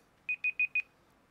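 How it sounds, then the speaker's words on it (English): Four quick, evenly spaced electronic beeps from Voron V2.4r2 3D printer electronics, fairly quiet and close, followed by near silence. "Sorry about the beeping."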